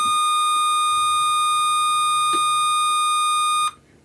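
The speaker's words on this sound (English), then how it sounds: "it beeps again to let you know that the power is back on" A sump pump sensor gives a long, steady, loud electronic beep as power is restored, sounding alone for several seconds before cutting off sharply, with a faint click in the middle.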